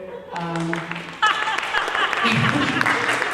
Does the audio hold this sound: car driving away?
no